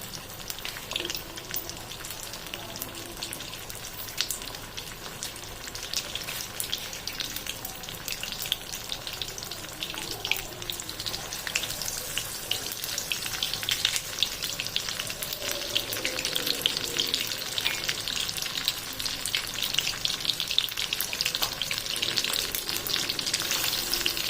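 Loitta (Bombay duck) fish frying in hot oil over a medium flame, a dense crackling sizzle that holds steady and grows slightly louder and busier toward the end, close and without voices.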